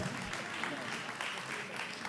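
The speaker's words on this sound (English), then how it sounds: "Want to keep the applause going now?" An audience at a public sector debate competition grand finale claps, a brief uniform patter of applause heard from a distance with a murmur of voices beneath.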